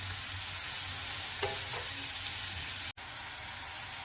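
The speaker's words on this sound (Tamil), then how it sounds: "வெங்காயம் நல்லா வதங்கணும்." Finely chopped onions sizzle steadily in hot oil with fennel and cumin in a pan for an egg pepper gravy, a continuous close frying hiss with a brief stirring clatter and a sudden short cut near the end.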